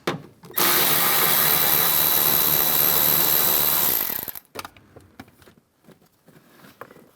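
A power driver with a 7mm socket backing a screw out of a 2007-2013 Chevrolet Silverado door during front speaker replacement: one loud, steady whir lasting about three and a half seconds, then quiet handling noises.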